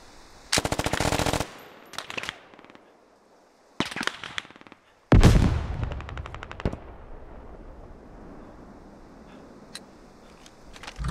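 Machine gun fire in the Squad video game on an Afghanistan desert map, with long loud automatic bursts, shorter volleys and a few scattered shots, then trailing echoes and faint distant gunfire.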